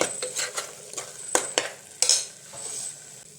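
A utensil stirs chilli powder, coriander and turmeric in a sizzling pan for chickpea curry, with a handful of sharp scraping strokes over a soft frying hiss.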